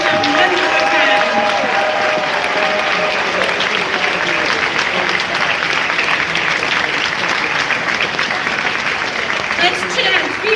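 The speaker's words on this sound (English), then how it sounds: "Let's give them a round of applause as we see them one more time." A crowd at a closing ceremony gives steady, dense applause for VIP artists, loud and continuous throughout with some cheering mixed in.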